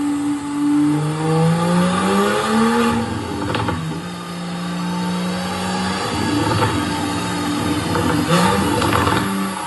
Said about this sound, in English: I heard the video of their GT3 on the dyno with the burbles and pops